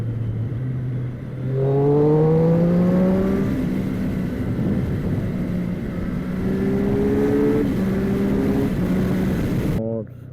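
A Triumph Street Triple 765 motorcycle engine revs up in rising, whining sweeps, settles to idle, then revs again, close and loud, with a voice speaking over it.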